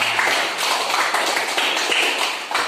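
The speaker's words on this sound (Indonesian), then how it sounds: "Beri tepuk tangan untuk kalian semua." A class of students gives a short round of clapping in a classroom, a brisk continuous patter of hands lasting a few seconds at moderate loudness.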